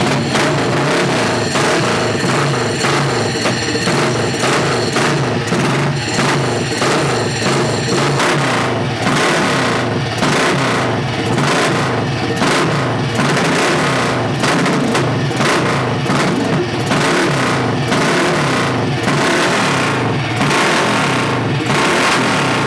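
An Aermacchi motorcycle engine runs loud and close in a workshop, a busy continuous mechanical roar with repeated revving and uneven surges throughout.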